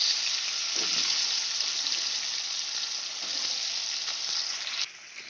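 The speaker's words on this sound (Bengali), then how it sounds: "নুন আর হলুদ দিয়ে আলুটাকে আমি লাল করে ভেজে নেব।" Diced potato cubes frying in oil left from frying fish heads, a steady bright sizzle close by with soft stirring, cut to quieter bubbling at the very end.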